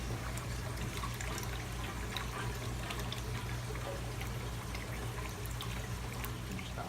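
Water pours steadily into an inverted aquarium fish tank, a continuous loud rushing and trickling with a low hum underneath, unbroken throughout.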